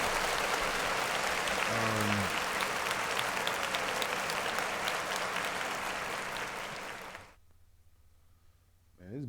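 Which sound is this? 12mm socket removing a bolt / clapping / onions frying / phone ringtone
clapping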